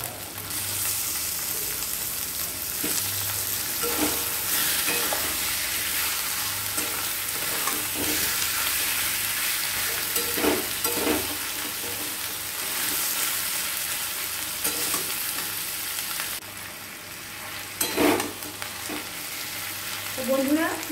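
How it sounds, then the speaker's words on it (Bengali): Chicken pieces frying in oil in a pan for a Bengali chicken curry, with a steady close sizzle throughout and repeated scraping stirs of the spatula, no talking. "এবার দিয়ে দিচ্ছি চিকেন।"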